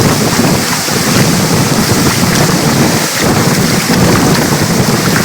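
Heavy rain pours down at Buruwisan Falls, a loud, dense, unbroken roar that fills the whole stretch with no voices.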